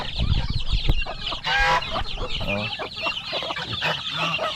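Turkey chicks and hens in a farmyard, a busy mix of clucking, peeping and squawking calls close by, with a brief human exclamation.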